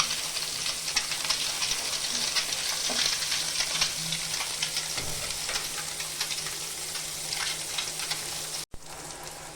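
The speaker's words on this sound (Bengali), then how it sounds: "ডিমগুলো আমি এভাবে ভেজে নেব" Duck eggs sizzle in a hot pan, a close, continuous crackling fry with scattered pops, running for several seconds before a brief cut and a quieter continuation.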